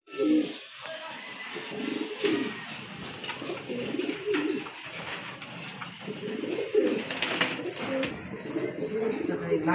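Quality fancy pigeons coo at a breeder's sale with repeated soft, throaty calls, moderately near and overlapping, with some voices and chirps mixed in.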